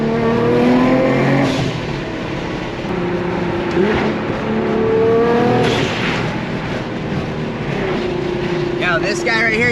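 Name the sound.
car engine revving as it drives by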